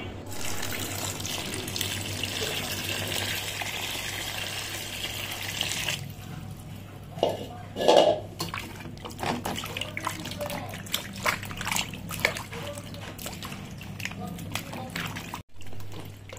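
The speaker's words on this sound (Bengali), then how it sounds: "আমগুলোকে এখন আমি ভালো করে ধুয়ে নিচ্ছি।" Raw green mangoes being washed under running tap water in a home kitchen, a steady splash and trickle throughout with brief louder handling splashes midway.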